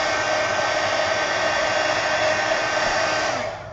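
A hair dryer blows steadily on a string art journal page, a loud constant whir that holds for several seconds before easing off at the end.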